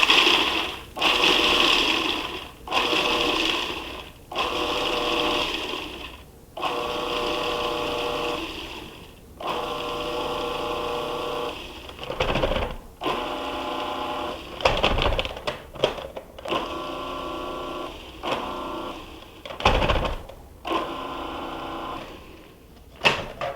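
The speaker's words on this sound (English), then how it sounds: "So just pulse until they're chopped up." A food processor pulses walnuts in short bursts for a muhammara blend, a run of brief whirring pulses separated by pauses, close and fairly loud with no talking.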